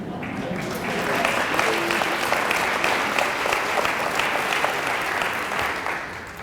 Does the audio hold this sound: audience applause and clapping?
yes